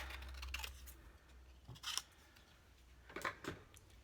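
Scissors cutting a paper sticky note during a stamping craft session, several faint, brief snips spread apart with quiet pauses between.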